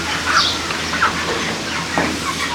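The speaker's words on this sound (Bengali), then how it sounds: "এটাও 600 মুরগি আছে" Broiler chickens clucking and chirping in a 600-bird farm unit, intermittent calls over a constant indoor hum.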